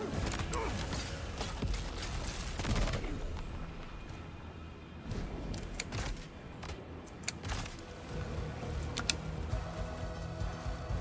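Gunfire in the video game Death Stranding 2, several sharp shots scattered among mechanical clicks and rumbling game sounds, fairly loud with no talking over it.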